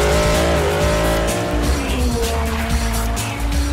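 A specially built Pikes Peak sports car on a hill climb run, its engine roaring loud and steady with rising and falling pitch as it accelerates through gears, with tyre squeal and crowd noise around it.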